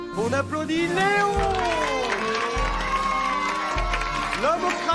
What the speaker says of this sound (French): On applaudit Léon!